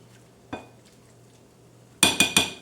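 A cooking pan being rinsed out after use, with a soft knock early on and then three quick, clattering metallic clanks close by near the end, otherwise quiet with a faint hum.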